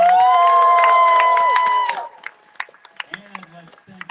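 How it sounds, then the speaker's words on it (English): Audience cheering with loud whoops and shouts over applause for performers at a Lord of the Rings group sing event, strong for two seconds then dropping to scattered claps and quieter crowd noise. "One more round of applause"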